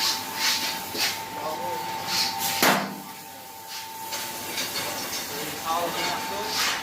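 A six-pan puffed rice (muri) machine running in Murshidabad: a steady mechanical hum with hiss and an occasional sharp clunk, with people talking over it.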